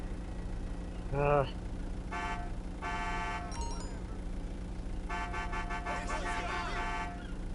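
Car horns honking in the GTA V video game: several short beeps and longer blaring honks spread over the clip, moderately loud against a low background hum, with a voice briefly heard early on.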